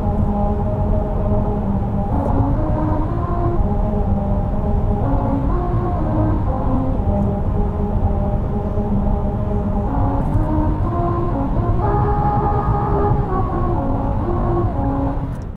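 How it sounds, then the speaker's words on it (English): A low, steady road rumble carries a wavering, slightly off-key melody of sustained tones from the grooved musical road in Lancaster, California, playing continuously as a car rolls along. "That was the musical road of Lancaster, California"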